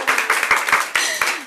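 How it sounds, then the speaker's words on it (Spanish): A small audience claps together during a live Spanish-language show, a short burst of sharp, rhythmic hand claps close by, rising and falling in quick waves. "A ver, aplausos."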